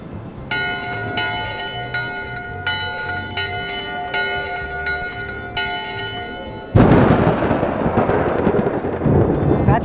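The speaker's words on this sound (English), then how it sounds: "Go ring the bell yourself." A ship's bell in the Return to Monkey Island video game clangs in a steady series of ringing strikes, each tone hanging in the air, before a burst of thunder and rain takes over.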